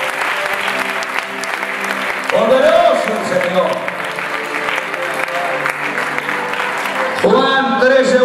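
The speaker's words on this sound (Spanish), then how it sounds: "denle un fuerte aplauso al Rey Jesús" Church congregation applauding loudly for Jesus during a Spanish-language sermon, a dense roar of clapping running throughout while a preacher speaks over it at the start and again near the end.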